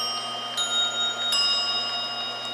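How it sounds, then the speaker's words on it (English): A mechanical chime clock rings a few bright bell strikes that linger and overlap, with a faint ticking under the sustained ringing tones. "The clock gets confused. It chimes like it's the half hour."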